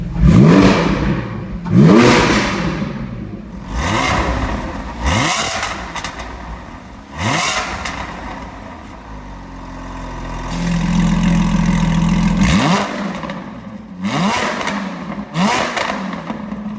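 Porsche 718 GT4 with competition headers, over-axle pipes and deleted particulate filters, exhaust valves held fully open, revs repeatedly in loud, sharp blips that rise and fall back to a rough idle, with a sustained hold near the end.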